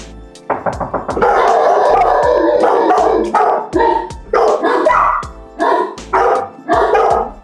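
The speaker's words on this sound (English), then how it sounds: "When our dogs are barking at the front door" A dog barks loudly and repeatedly up close, a rapid string of yips followed by longer, howling barks in an uneven rhythm.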